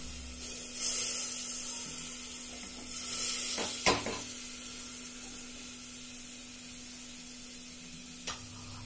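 Butter melts and sizzles in a pan for pav bhaji curry, a soft, steady hiss punctuated by a few utensil knocks and scrapes, close and without speech.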